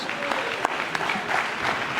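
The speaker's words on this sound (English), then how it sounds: "Give me a round of applause, please." Audience clapping after a city official's address at a news briefing, a dense steady patter of many hands with occasional louder claps, no voices over it.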